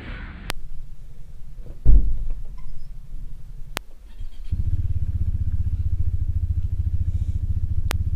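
Motorcycle engine idling near the road before a ride, with a steady low rumble that rises into a louder, sustained engine drone partway through, broken by a few sharp clicks and a brief thump.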